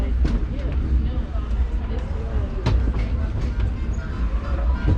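Disneyland Railroad train rolling along its track, a steady low rumble with rail clatter and a few sharp clanks, close by, with voices in the background.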